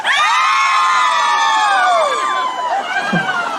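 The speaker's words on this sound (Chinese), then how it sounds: "就是要为着这个尖叫声" Crowd at a lantern festival concert screaming and cheering, a loud sustained wall of high-pitched shrieks and whoops that fades slightly toward the end.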